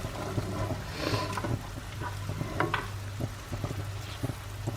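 Butternut squash liquid cooks down in a pan with a moderate sizzle and bubbling, while a utensil knocks and scrapes softly in an uneven rhythm.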